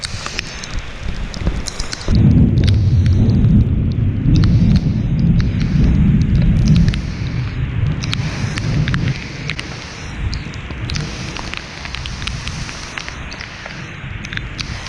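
A thunderstorm with rain at an off-grid tiny home cabin site, a deep rumble of thunder building then fading under steady hiss of rain and gusty wind buffeting the microphone.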